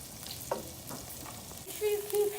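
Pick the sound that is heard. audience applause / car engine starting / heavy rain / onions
onions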